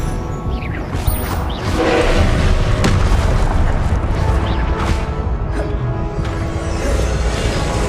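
Confringo blasting spells in the Hogwarts Legacy video game, loud booming explosions bursting repeatedly over dense, continuous battle noise for the whole stretch.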